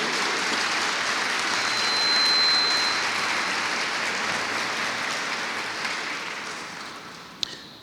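A church congregation applauds during a Spanish-language sermon, a broad sustained wash of clapping that swells in the middle and then slowly tapers off.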